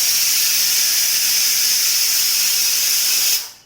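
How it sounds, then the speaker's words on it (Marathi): A pressure cooker whistles on a home kitchen stove while alu vadi is prepared, a loud continuous steam hiss holding steady for over three seconds before cutting off abruptly. "तीन शिट्ट्या झाले कुकरच्या"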